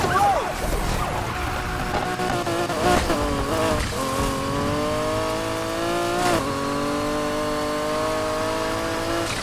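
Racing car engine in Need for Speed Heat, a steady loud drone with rising and falling revs, briefly surging around the gear changes, under a busy mix of game sound with faint voices.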